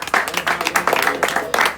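A showcase crowd claps and cheers for a rapper in dense, steady bursts of hand-clapping, with voices mixed into the noise.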